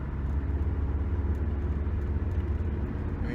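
Steady low exhaust drone from a car fitted with a Magnaflow performance muffler while coasting at 50, heard from inside the cabin as a continuous, fairly subdued rumble with no revving.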